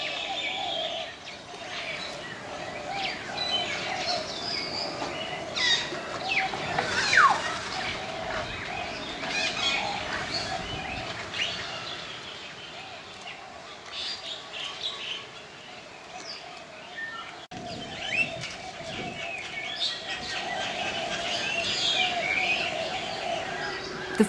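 Birds in the dome-shaped aviaries of a bird park in Bali give scattered chirps, tweets and coos at moderate distance, layered over a continuous background hum.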